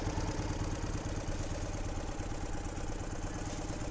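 A 1965 BMW R50/2 boxer-twin motorcycle engine runs steadily up close, a loud, continuous throbbing idle with a fine mechanical clatter and no voices.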